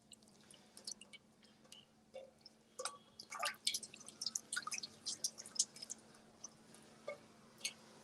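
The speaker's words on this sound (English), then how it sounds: "So we dissolve the yeast, the fresh yeast in the water," Fresh yeast being stirred and dissolved into water for Neapolitan pizza dough, giving soft irregular wet drips and squishy splashes, close and fairly quiet over a steady low hum, with no talking.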